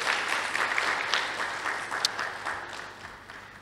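An audience at a health-access event applauds a professor, steady close clapping from many hands that gradually fades over a few seconds.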